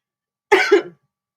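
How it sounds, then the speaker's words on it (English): A single short, sharp cough, close and loud, with a quick double burst and silence on either side. "Excuse me, I'm coughing here."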